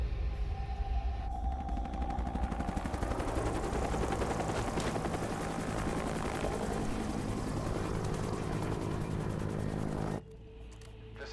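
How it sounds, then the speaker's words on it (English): Two Mi-28 attack helicopters pass close and loud, their rotors beating with a steady, heavy, rhythmic thump and a roaring engine wash. The sound holds for about ten seconds, then cuts off abruptly to a quieter background. "Just had two Mi-28s fly by."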